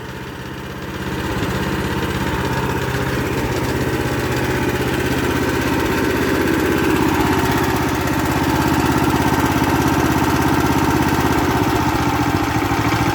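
420cc Predator engine on a go-kart running with a continuous close, rough mechanical drone after a short quieter start, steady throughout without cutting out.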